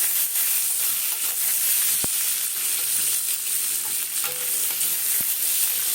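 Peas frying in hot oil in a pan, a continuous close hissing sizzle with faint occasional pops and a couple of light clicks.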